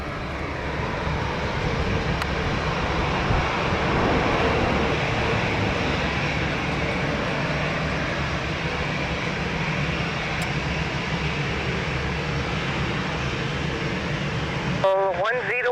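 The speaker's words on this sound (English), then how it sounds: "What a landing." An airliner lands at Lisbon Airport with a sustained, broad engine roar and rumble held steadily throughout, loud and fairly near, ending in a brief radio-like burst.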